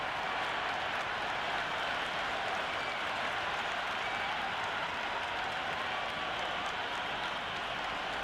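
Simulated stadium crowd in the Cricket 26 video game during an India versus South Africa ODI, a steady dense roar of cheering and clapping, distant and even, with no clear voices.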